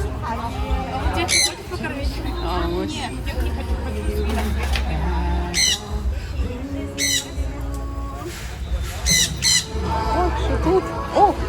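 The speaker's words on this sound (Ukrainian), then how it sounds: "А ось дивіться, які папуги." Loud, harsh parrot squawks burst out repeatedly in short bursts at a market in Pattaya, Thailand, with people chattering in the background throughout.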